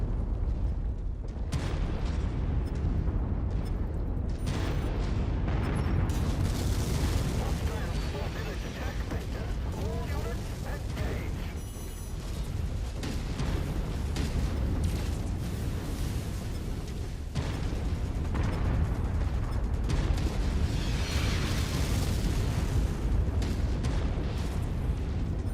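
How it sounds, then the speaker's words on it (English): Artillery explosions in the MechWarrior 5 video game, a continuous loud barrage of booming blasts and rumbling impacts layered over battle noise, with a voice talking through it. "There is only a little bit of artillery over here."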